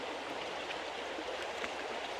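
Steady rushing flow of a river stream, a continuous broadband wash of water with no breaks, moderately loud and close, no voices.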